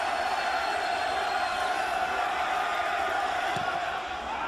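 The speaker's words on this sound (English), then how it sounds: "greeted with rapturous applause as the flashbulbs go off around him" A large stadium crowd roaring and applauding David Beckham at the 2008 MLS All-Star Game against West Ham United, a steady, dense wash of cheering heard from a distance without letup.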